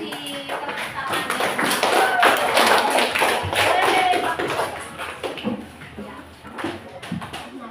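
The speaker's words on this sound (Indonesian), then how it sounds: "Kita kasih tepuk tangan." Classroom applause after the best student groups are announced, a few seconds of clustered hand claps and taps rising to a busy peak and then thinning out, with voices chattering underneath.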